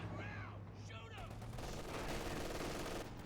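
Artillery barrage rumbles continuously through a video game battle, dense booms and crackling explosions blending into a loud, sustained wall of gunfire with faint distant shots mixed in.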